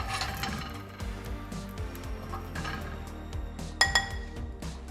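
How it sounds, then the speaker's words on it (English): A utensil scrapes and clinks against a pan as crispy Brussels sprouts are pushed off into a bowl, with irregular metallic scratches, taps and a couple of sharper clinks near the end. "make sure you kind of scrape them off of the pan and put them in"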